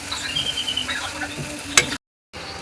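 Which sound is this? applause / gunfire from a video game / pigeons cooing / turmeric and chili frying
turmeric and chili frying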